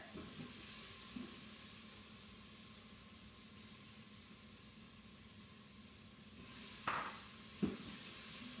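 Garlic fries in a pan with a steady, broad hiss that holds evenly throughout, broken by a couple of brief clatters near the end.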